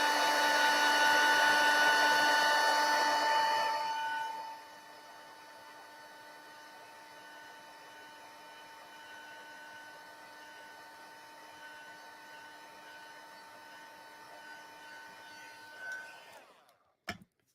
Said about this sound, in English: I'm just going to take my heat tool and heat this up so it dries